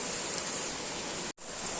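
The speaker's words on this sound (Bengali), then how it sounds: "হ্যালো গাইস, আজকে বৃষ্টি হচ্ছে।" Steady rain falls at a village home during the monsoon month of Shravan, a dense, continuous broadband hiss that carries evenly throughout, with one brief dropout near the end.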